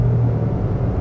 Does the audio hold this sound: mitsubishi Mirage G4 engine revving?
yes